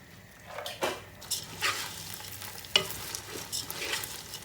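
Rice frying in a pan for chicken fatteh gives a soft sizzle, broken by scrapes and clinks of a spoon stirring against the pan at irregular moments.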